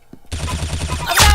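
A short burst of rapid, evenly spaced video game gunshots, loud and close, ending in a heavier blast.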